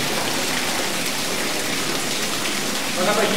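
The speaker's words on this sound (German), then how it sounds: "Da kommt das Wasser durch die Decke." Water streams and patters steadily through the ceiling of an underground tunnel in an old wartime weapons factory, a loud, continuous rain-like hiss that swells slightly near the end.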